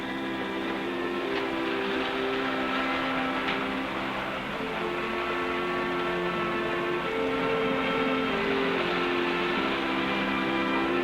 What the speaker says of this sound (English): will you kids please play with the trains carefully?